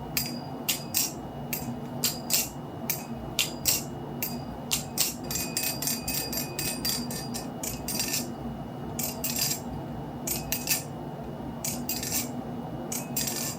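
A DLC-coated JK Orca balisong knife is flipped, giving rapid clusters of sharp metallic clicks and clacks in irregular bursts with brief pauses, close and distinct with no talk.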